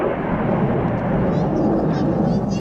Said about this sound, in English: There it is, the fighter jet. I don't know if it's a Su-25